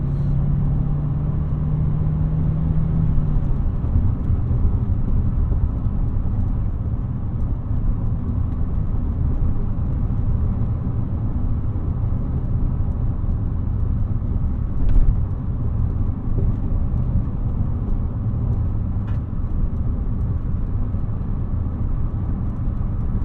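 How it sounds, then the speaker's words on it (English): A steady engine drone and road rumble from inside a moving 1988 Honda Accord LX-i with a 5-speed manual, even and continuous throughout with no voices. "Shift's great, the clutch is perfect. Engine just purrs."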